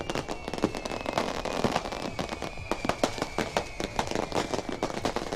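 New Year fireworks burst over a crowded coastal tourist area, a dense, continuous barrage of loud cracks and pops with no pause throughout.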